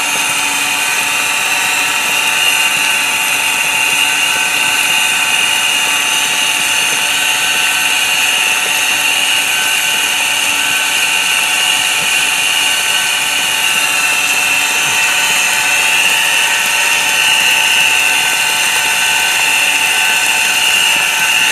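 Water-well jet pump runs steadily beside a well water filter setup, a loud, constant mechanical whine and hum with no change in rhythm throughout.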